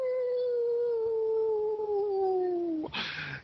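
A long wolf-like howling sound effect glides slowly downward in pitch, loud and sustained, then breaks off into a short rough noisy burst at the end, with no speech.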